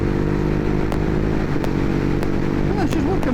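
A Ducati Hypermotard 821 fitted with a Healtech quickshifter revs hard up close, its engine note steady and loud with a few quick sharp breaks from clutchless shifts, while a voice speaks over it.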